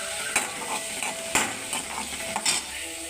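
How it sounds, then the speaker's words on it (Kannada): Chopped tomato and onion sizzle in a pan for a broccoli stir-fry, with a steady frying hiss and several distinct spoon scrapes and taps against the pan, close and alone without talk. "ಟೊಮೆಟೊ, ಈರುಳ್ಳಿ ಎಲ್ಲ ಫ್ರೈ ಆಗ್ತಾಯಿದೆ."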